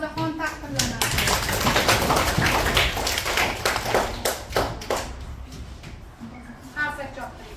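Hand clapping from an audience of children and adults at a school award ceremony for quiz winners, a steady burst of many claps through most of the span, with voices talking over it and fading near the end.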